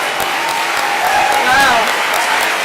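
Audience applause fills the room at a Massachusetts health care reform anniversary celebration as people rise to their feet, steady broadband clapping with a voice briefly rising above the crowd noise.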